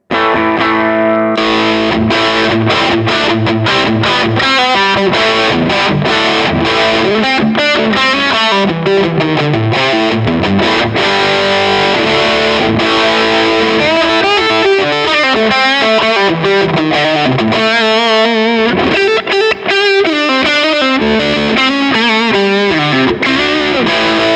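A loud, crunchy electric guitar through a Marshall-style overdrive pedal plays a continuous riff with chords and single-note runs, full and saturated throughout.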